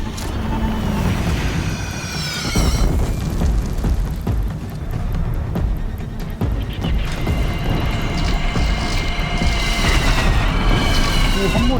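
Repeated loud cannon booms from a platform defense in Horizon Zero Dawn, heavy bursts of fire over battle noise, with voices speaking in between.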